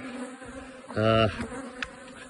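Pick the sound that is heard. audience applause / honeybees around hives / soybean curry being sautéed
honeybees around hives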